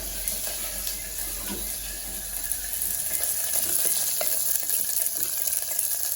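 Onions and green chillies sautéing in a pan for sambar, a steady close sizzle with faint water-like hiss throughout, without talk.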